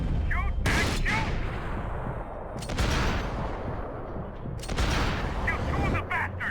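Dense video-game gunfire from Max Payne 3, heavy sustained shots and bursts packed close together over the whole stretch, loud and constant, with a voice shouting now and then underneath.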